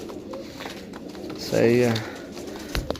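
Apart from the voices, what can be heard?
pigeons cooing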